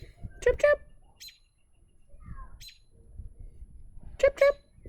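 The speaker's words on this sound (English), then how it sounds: "And she's chirping at me." A bird gives short, bright chirps in a few bursts with quiet gaps between them, close by, along with some soft low background noise.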